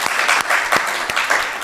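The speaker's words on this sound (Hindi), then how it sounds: "इसलिए एक बार जोरदार तालियों से धन्यवाद करिए" A crowd at a student award ceremony in Rajasthan breaks into hearty applause, a loud, dense burst of many hands clapping with a few sharper claps standing out, continuing throughout the short moment.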